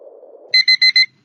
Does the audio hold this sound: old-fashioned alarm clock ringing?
yes